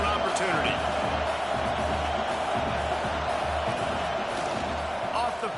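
Stadium crowd noise in the college football video game CFB26, a steady dense roar of a large crowd throughout with a commentator talking over it.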